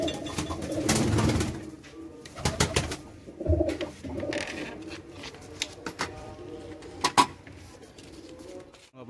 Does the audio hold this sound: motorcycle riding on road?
no